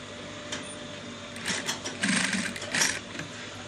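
A sewing machine stitches fabric for a senator top in short, quiet bursts. Its faint mechanical whir rises and falls as the runs start and stop against a low room hum.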